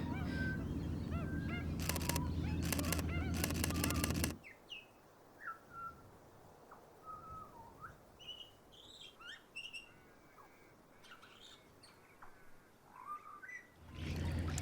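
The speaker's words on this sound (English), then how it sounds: "Interesting birds." Wild birds honk outdoors in a burst of loud, close calls that stop abruptly. Quieter chirps and calls follow, and the loud honking returns at the end.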